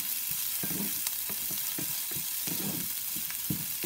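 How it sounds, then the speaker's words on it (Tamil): Onions sautéing in a pan as the filling for cauliflower stuffed paratha, a steady close sizzle broken by regular scraping and tapping of the stirring spoon, with no talking. "வெங்காயம் ஓரளவு வதங்கிடுச்சு."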